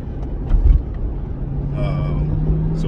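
Inside a moving car, a steady low road rumble and engine hum run throughout, with a few brief knocks and a faint voice-like sound partway through.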